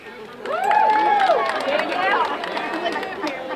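At a 2025 Sullivan High School graduation, a large crowd erupts in loud whoops, shouts and mixed voices, swelling quickly and then holding as a busy roar of cheering.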